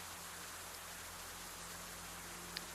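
Steady rain falling in the game Cataclysm DDA, an even, faint hiss of rainfall with a constant low hum beneath and one tiny click near the end, no voices.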